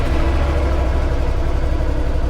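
A side-by-side UTV engine idles with a loud, steady low rumble, close by and uninterrupted.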